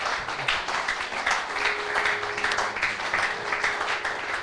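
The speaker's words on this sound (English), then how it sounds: "Let's clap for the Holy Spirit tonight again." Church congregation clapping in praise for the Holy Spirit, a sustained, fairly even wash of many hands with slight rhythmic pulsing, filling the room without talk on top.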